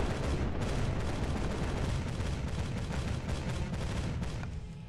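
Sustained gunfire in the strategy game Capital Command, a dense continuous barrage of shots and rumbling blasts filling the whole stretch at steady loudness, with no talking.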